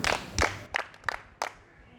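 Junior high school students clapping for a classmate in class, a few scattered, uneven claps with gaps between them, fairly faint and thin.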